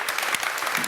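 Audience clapping at a talk, a brief, steady patter of many hands at moderate loudness with no voices over it.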